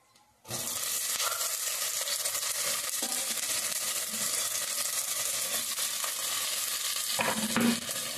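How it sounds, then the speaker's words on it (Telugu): Sliced onions, tomatoes and eggplant fry in a pan with a loud, steady sizzle that starts abruptly and continues unbroken, with occasional stirring scrapes near the end. "ఇదిగోండి ఉల్లిపాయలు అయితే చక్కగా వేగుతా ఉన్నాయి."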